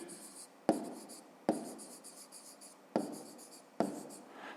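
Pen strokes on paper while writing out a fifth-grade maths exercise, four crisp scratching bursts at a steady pace, close and fairly quiet, with no talk.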